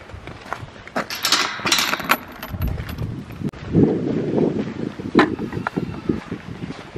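Strong wind blowing outdoors on a farm, a steady rushing roar with gusty swells buffeting the microphone throughout.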